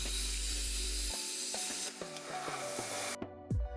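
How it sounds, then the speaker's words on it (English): A plasma cutter piercing bolt holes in aluminum bracket stock, a steady broadband hiss with crackling bursts and short clicks over about three seconds, cutting off abruptly near the end, recorded close by with no talking. "use our plasma cutter"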